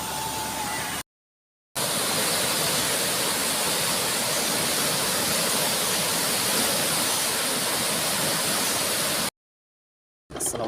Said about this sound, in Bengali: পানির গর্জনটা শুনুন।